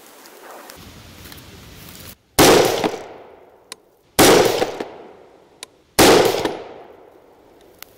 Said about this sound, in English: All right, so that's three shots.